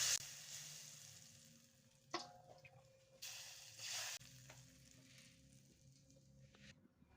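Hot cooking oil hisses and sizzles in bursts as it is poured over sambal, with crackling sputters fading between pours, close and moderately loud.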